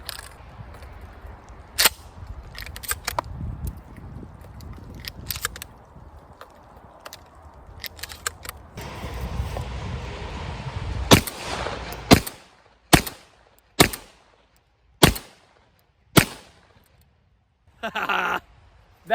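A Remington 11-87 semi-automatic police trade-in shotgun fires a series of loud, sharp blasts, irregular at first and then evenly spaced single shots in the second half, each with a short decay, with outdoor background noise between.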